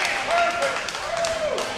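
A wrestling crowd in Kentucky keeps up steady cheering and applause throughout, a broad continuous roar heard under a commentator's talk.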